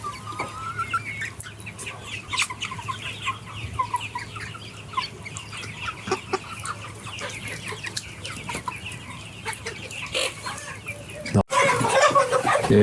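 Yellow chickens cluck and chatter steadily inside a poultry house, a dense continuous flock murmur with scattered sharper calls, ending in a louder burst near the close.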